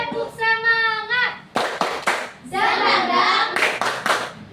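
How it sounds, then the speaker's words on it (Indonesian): Children perform a rhythmic spirit clapping routine in a classroom, sharp claps in time mixed with chanted voices and a sung tone, close and lively. "Oke, tepuk semangat."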